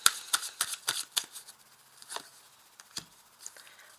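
A deck of tarot cards is shuffled and then drawn. A quick burst of crisp paper flicks and riffles comes first, then a few isolated, softer card snaps, all close and quiet, with no talking.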